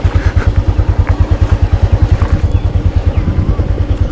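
A vehicle engine descending a steep hill in low gear gives a close, loud, rapid rhythmic thrum that pulses steadily throughout with some rattle above it.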